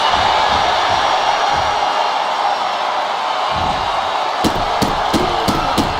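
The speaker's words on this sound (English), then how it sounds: "a loud crowd doesn't get any hotter than this" Arena crowd in WWE 2K25 roars continuously and loudly, a broad sustained cheer with a few sharp thuds and impacts near the end.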